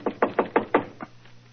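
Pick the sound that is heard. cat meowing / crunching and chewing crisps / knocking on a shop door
knocking on a shop door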